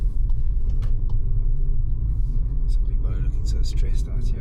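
A 2024 Volkswagen Polo GTI driving and swinging through a U-turn, its engine a steady low rumble close up inside the cabin, with a voice talking over it and some clicks and rustles near the end.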